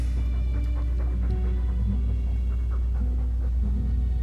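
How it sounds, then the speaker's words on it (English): Steady, rhythmic dog panting in the video game Dragon Age 2 over a constant low electronic hum, with no voices. "All that noisy dog breath, day in, day out, make him stop."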